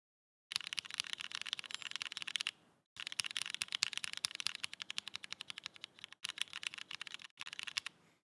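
Rapid typing on a Numa keyboard fitted with Nixies switches, close and clear, a steady run of crisp keystrokes broken by a few short pauses.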